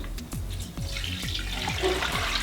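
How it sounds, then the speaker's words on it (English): Water pours steadily into the basin of a Ninja Foodi pot holding a rack and rinsed corned beef, a continuous splashing stream close by with no talk over it. "I'm going to add 4 cups of water"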